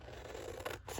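Scissors snip through paper while cutting out strips for handmade journal borders, giving a close, brief scraping cut that runs into a second quick snip.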